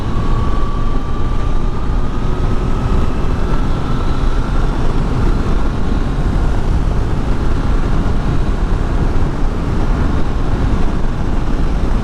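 A Triumph Tiger Sport 660 motorcycle is ridden through twisty roads, with a steady engine drone mixed with heavy wind rush and a slowly rising engine note throughout, constant and loud with no talk.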